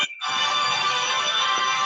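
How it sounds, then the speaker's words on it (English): A mobile phone ringtone from an incoming call plays as a steady, bright electronic tone that starts abruptly after a brief gap and sustains evenly at moderate loudness. "That was my phone, somebody calling me."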